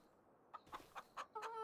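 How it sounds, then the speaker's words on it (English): Chickens in Farming Simulator 26 give a few short, fairly faint clucks at a steady pace, ending in a longer, more tonal squawk. No one speaks. "Oh, that's chicken."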